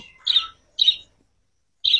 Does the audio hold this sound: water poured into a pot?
no